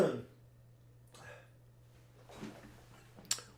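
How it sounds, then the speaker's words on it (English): A man clears his throat a few times, close to the microphone and fairly quiet, with short rough rasps spaced over a few seconds against a faint steady hum. "I got to clear my throat again."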